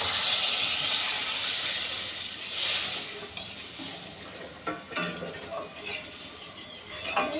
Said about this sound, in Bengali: মশলাটা কষানো হয়ে গেছে, জল দিয়ে দিলাম।